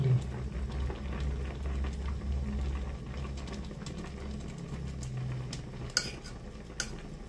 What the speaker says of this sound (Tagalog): Ayan, kulong-kulo na mga lods.